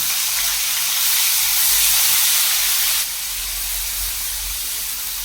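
Finely chopped pineapple pieces cooking in hot ghee with cashews for pineapple sheera, giving a steady, loud sizzling hiss that eases slightly partway through.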